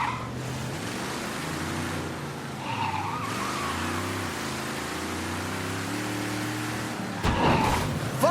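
Car engine and tyres skidding in the video game Mafia III, a continuous engine drone with rising pitch sweeps, then a sharper burst of tyre squeal near the end, fairly loud with no talk.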